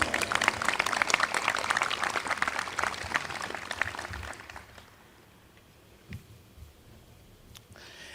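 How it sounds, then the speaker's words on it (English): Applause from a commencement audience for an Associate of Science graduate, dense and steady clapping for about four seconds that then fades into a quiet room with a few stray claps. "If we can give him a round of applause"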